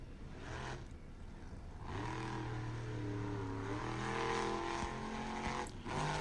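A monster truck engine at an All Star Monster Truck Tour arena event in Spartanburg, South Carolina, revs and climbs in pitch as the truck accelerates toward the center jump, with a loud, sustained roar and a brief drop near the end.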